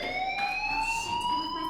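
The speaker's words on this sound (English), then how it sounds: "Hey, do you hear that fire alarm?" A school fire alarm in the Life is Strange video game rings as a steady, loud electronic tone that rises slightly in pitch and carries on without a break.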